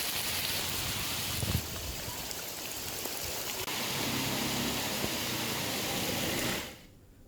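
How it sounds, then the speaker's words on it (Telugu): A torrential downpour in Hyderabad makes a loud, continuous, even hiss of rain that holds steady for several seconds before cutting off abruptly near the end. "హైదరాబాద్లోని పలు ప్రాంతాల్లో కుండపోత వర్షం కురుస్తోంది"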